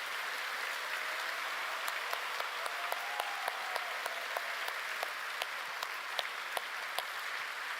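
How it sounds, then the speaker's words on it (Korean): Steady applause from a church congregation at a Friday night worship service, honoring the young adults, with a dense wash of many hands and a few sharper individual claps standing out, moderately loud throughout. "우리 청년들을 위해서 박수 한번 치겠습니다."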